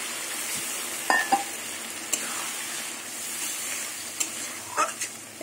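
Bhetki fish curry with potatoes is sautéed and stirred in a pan, a low steady sizzle broken by a handful of quick utensil scrapes and taps, close up with no voices.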